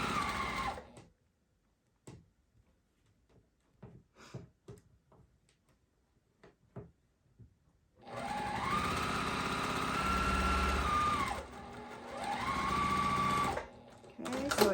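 A sewing machine stitches the top onto a cabin-style quilt block in two sustained runs with a short pause between them, loud and close, after a stretch of quiet handling clicks and taps.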